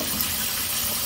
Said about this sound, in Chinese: 依家再冲冲佢，流动水冲下佢